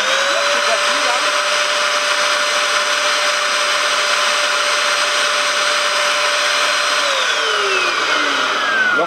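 A fabric seat cleaning machine runs on the upholstery of a Fiat 500 with a loud, steady motor whine held close for the whole stretch, its pitch falling away near the end.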